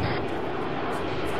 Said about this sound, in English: The jet is flying at us, literally making a straight run.